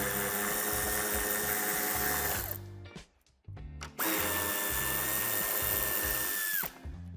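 A power tool whirs loudly as it spins off the two nuts holding the taillight of a 2017-2023 BMW 5 Series G30 sedan, two sustained runs separated by a short pause with clicks.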